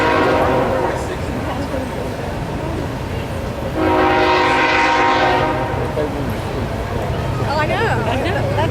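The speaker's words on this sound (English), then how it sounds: "As soon as that train goes by" A train rumbles past an outdoor opening ceremony for the 2018 Miamisburg Bicentennial, its loud horn blaring for a couple of seconds mid-pass while people talk over the steady rolling noise.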